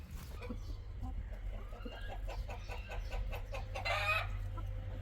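A backyard flock of hens clucks and murmurs in steady bursts at moderate distance, with a louder flurry of calls near the end over a constant low hum.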